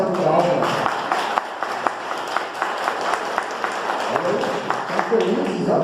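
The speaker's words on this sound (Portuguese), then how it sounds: "Uma salva de palmas." A church congregation claps during a Saturday morning service, with uneven, moderately close applause and distinct individual claps. Voices are heard over the clapping.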